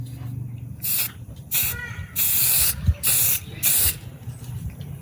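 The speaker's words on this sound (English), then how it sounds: "A little self-etching primer that I got at Home Depot." Self-etching primer sprayed from an aerosol can onto a patch panel on a Chevy square body, heard as five short, close, loud hissing bursts with quiet gaps between them.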